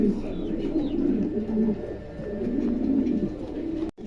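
A pair of pigeons cooing close by in a cage, a low continuous throaty murmur lasting throughout.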